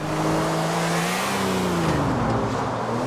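A race car engine in Grand Theft Auto IV roars steadily at high revs throughout, its pitch sliding up and down with gear changes, loud and close with no talk over it.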